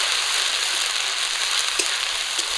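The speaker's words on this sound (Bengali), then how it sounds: "আদা রসুন বাটাটা দেওয়ার পর একটু ভাজা করে নেব।" Ginger garlic paste frying in oil makes an even, bright hiss and crackle close by, steady throughout with faint occasional clicks and no speech.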